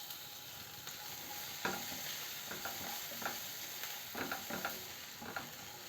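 Chopped onions sauté in oil with curry leaves, a constant low sizzle punctuated by repeated clinks and scrapes of a spoon stirring in the pan, close and unaccompanied by speech.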